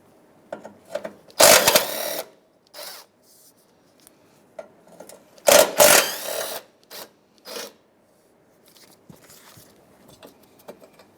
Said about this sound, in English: we'll take out these two bolts here, which means this metal bracket is going to come out with the headlight